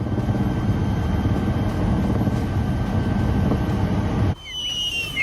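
Helicopter flying over the cloudburst-struck mountain valley at Dharali, Uttarkashi, heard as a steady, loud rotor and engine roar that cuts off abruptly near the end, leaving a quieter background.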